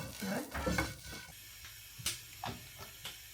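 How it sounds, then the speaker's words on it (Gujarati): Kunafa roasts in ghee in a pan, giving a soft sizzle broken by several scraping stirs and light clinks of a utensil against the metal. Faint speech-like sounds come early on. "આપણે પ્રોપર ઘીમાં શેકવાની છે"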